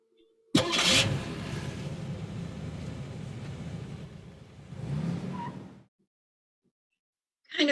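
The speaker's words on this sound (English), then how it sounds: "Yes, Brooke, you can start the car now." A car engine cranks and catches, then runs at a steady idle for about five seconds with a brief swell of revs before cutting off, heard up close with no talking.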